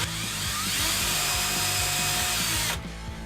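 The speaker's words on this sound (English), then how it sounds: "I just want to run it on the drill and just make sure everything's working good." A drill spins the front axle of an RC4WD 1/24 Trail Finder 2 crawler, a steady whirring grind with rhythmic gear clicking, close and continuous until it cuts off near the end.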